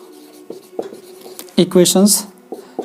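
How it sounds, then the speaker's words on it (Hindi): Chalk or marker strokes tap and scratch across a board in short bursts while equations are written, with a lecturer's voice speaking briefly over the writing. "यहाँ लिखता हूँ मैं, एबव फोर इक्वेशंस"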